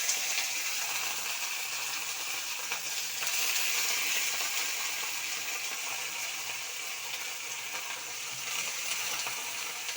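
Small pieces of boneless chicken, added to onions already fried, sizzle in a pan with a steady, fairly quiet hiss that continues evenly throughout.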